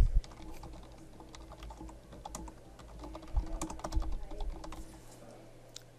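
Keys clatter on a computer keyboard in a quick, irregular string of close, light clicks over a low steady hum, with a couple of heavier taps.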